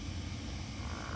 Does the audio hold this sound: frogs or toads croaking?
yes